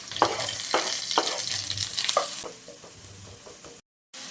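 Onions and green chilies sizzle and fry in coconut oil in a non-stick pan, a steady close crackling hiss with periodic stirring scrapes, then a brief dropout near the end.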